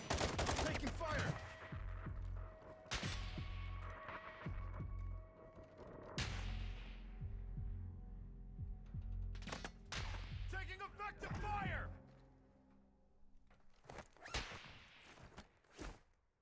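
Video game gunfire in a battle-royale style match: scattered sharp shots and short bursts spread across the clip, some loud and close, others fainter, with quiet gaps and game voice callouts between.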